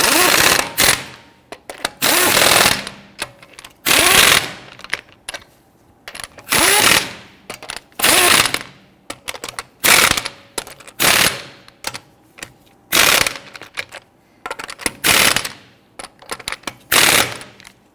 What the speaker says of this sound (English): Now let's go ahead and snug these down.